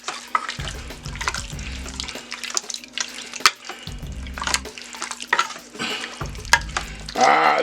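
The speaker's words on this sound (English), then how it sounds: "We're going to stir that around in here." Beef is stirred in a pressure cooker with repeated scraping and clinking strokes over a steady sizzle, the rhythm pausing and resuming, close and moderately loud with no talking.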